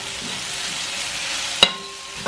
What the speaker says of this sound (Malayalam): ഇനി ഇതിലേക്ക് നമ്മളുടെ സ്വന്തം കറിവേപ്പില ഒരു 2-3 തണ്ട് ഇതുപോലെ ഒന്ന് ഇട്ട് കൊടുക്കണം